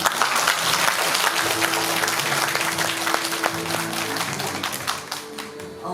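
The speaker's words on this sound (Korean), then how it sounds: "큰 용기 내서 이 자리에 선 만큼 더 큰 박수 부탁드리겠습니다" An audience at a humanities city forum in Pocheon applauds a middle-school student as she comes up to present: loud, dense clapping that runs without a break, then thins out toward the end.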